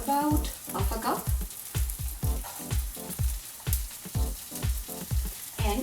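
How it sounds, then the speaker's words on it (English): Chopped onions frying in butter for pav bhaji, a soft sizzle broken by a regular series of thumping taps, fairly quiet. "And to this butter, I'm going to add a handful of chopped onions, about half a cup"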